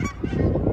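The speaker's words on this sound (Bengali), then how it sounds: "এই যে পাখিগুলো দেখলেন?" Geese honk outdoors near a Target store in a quick burst of a few close, loud, nasal honks.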